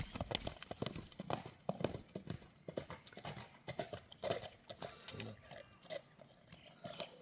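A horse's hooves clip-clop in quiet, irregular knocks on hard ground, sometimes in quick clusters, with faint background noise throughout.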